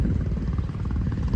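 A tour helicopter flying over the 12 Apostles on Australia's coast, its steady low rotor thump droning without pause at moderate distance for a brief moment.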